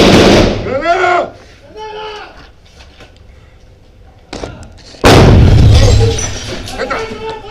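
A grenade goes off during an armed police raid to capture a drug lord: a sharp, loud blast followed by a rumbling roar that lingers, preceded by shouted commands and a few scattered bangs, with voices calling out around it.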